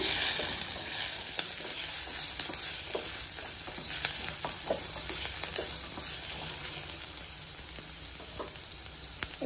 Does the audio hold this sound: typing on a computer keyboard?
no